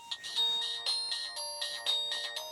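Ringtone from a Samsung SGH-X450 mobile phone plays as a bright, repeating electronic melody of short beeping tones in a quick, steady pattern, clear and alone.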